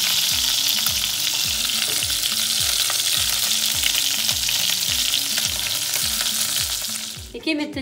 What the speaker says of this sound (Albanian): qoftet i kemi skuqur shumë mirë